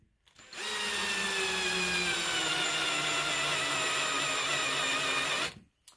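A hand drill spins a BPI roll crimper on a shotgun shell, a steady high whine that starts abruptly, holds evenly for about five seconds with a slowly falling pitch, then stops cleanly.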